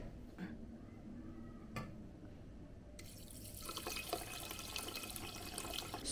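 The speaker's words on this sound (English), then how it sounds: "I'm just going to put water to level 1" Water runs into a Xiaomi pressure cooker holding a cup of rice. The room is quiet and faint at first, then a steady, splashy pour starts about halfway through and keeps going.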